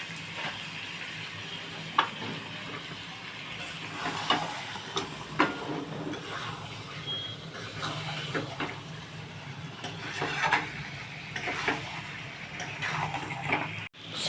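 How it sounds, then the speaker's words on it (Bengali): Potato dum, Kashmiri-style and white, cooking in a pan with yogurt and sugar gives a steady, low sizzle and hiss, with occasional soft stirring scrapes and clicks throughout. "সাদা কাশ্মীরি আলুর দমটা আমার কষা হয়ে গেছে।"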